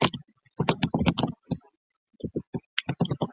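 Computer keyboard typing in short clustered bursts of clicks with brief pauses between, close and moderately loud, no talking.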